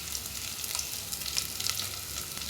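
Crushed black pepper, cumin and garlic sizzling in hot oil for a rasam, a dense close crackle with sharp spits and pops scattered throughout.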